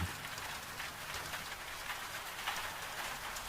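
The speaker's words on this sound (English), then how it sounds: "There is something specifically comforting about rain on an old farmhouse roof" Steady rain patters on an old farmhouse roof in rural Scotland, a soft, even hiss of dense drops heard from indoors, faint and continuous with no voices.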